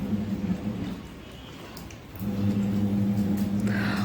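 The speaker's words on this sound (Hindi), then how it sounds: "जैसे ही मैं आई तो बड़ी बड़ी बूंदें गिरने लगी और बस बारिश हो गई है।" Steady rain falls nearby, a constant soft patter and wash with a low hum underneath, growing a little heavier partway through.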